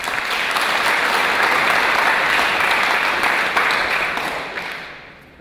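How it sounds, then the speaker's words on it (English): A conference audience applauds as a security talk speaker takes the stage, a full, steady burst of clapping from a crowded room that fades out near the end. "So please give him a round of applause."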